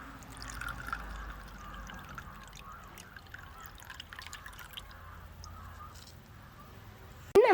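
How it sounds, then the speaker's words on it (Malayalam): Water being poured into a coconut shell to make tea, a faint, close trickling and dripping that runs steadily for several seconds before a sudden louder noise at the very end. "ഇനി അതിലേക്ക് വെള്ളം ഒഴിച്ചെടുക്കാം"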